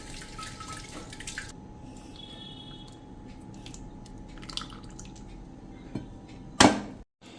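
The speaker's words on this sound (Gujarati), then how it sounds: "હવે આમાં આપણે થોડુંક પાણી નાખીને અને તૈયાર કરી લેશું થોડું." Soft trickling and splashing of water poured into thick mango pulp juice in a pot, fairly quiet and close, ending with a brief louder splash and clatter.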